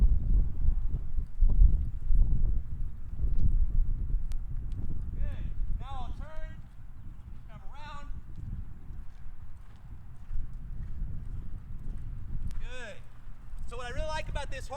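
A horse loping during a riding session, its hooves beating a steady clip-clop rhythm that carries through the clip, mixed with low wind rumble and a few high chirps or squeaks.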